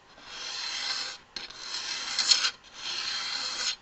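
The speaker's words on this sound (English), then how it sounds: "The sound of chalk or fingernails against slate" Chalk scrapes on a blackboard, a dry, gritty rasp in three long strokes with brief breaks between, harsh and close, with no voices.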